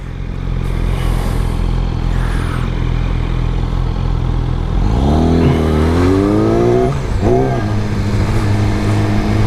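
A 2019 Yamaha R6 sport motorcycle engine idles with a steady low rumble, then revs up hard into high revs with rising, sweeping pitch and a brief dip and recovery, loud and close, with no talking.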